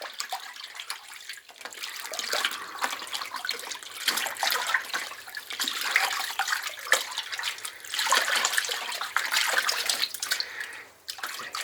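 Water in a baking soda neutralizing bath being stirred around a soaking deer hide, steady sloshing and swishing close by throughout, with no talking.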